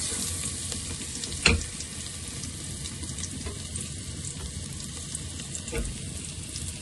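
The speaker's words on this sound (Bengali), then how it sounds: "দিয়ে দিচ্ছি আদা কুচি আদা রসুন পেস্ট" Chopped ginger and ginger-garlic paste fry in a pan with a steady close hiss and crackle. A sharp spoon knock near the start and another later break the sizzle, with no voice.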